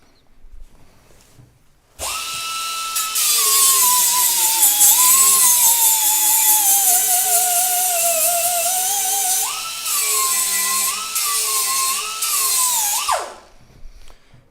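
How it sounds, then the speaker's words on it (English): A small stainless steel weld is ground off with a Tyrolit 60-grit disc, a loud high-pitched whining grind lasting about eleven seconds with pitch dips as pressure changes, then spinning down. "changing to the 60 grit, like that, and then quickly remove that small stainless steel weld"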